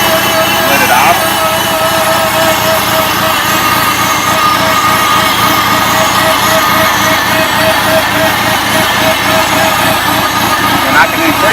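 A 1975 International Farmall Cub tractor engine idles steadily at low throttle, a continuous near rumble with a fine rapid chug that holds even throughout.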